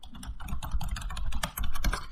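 Rapid typing on a computer keyboard while entering commands at a command line, with a steady run of close, crisp key clicks that pause briefly near the middle and then resume.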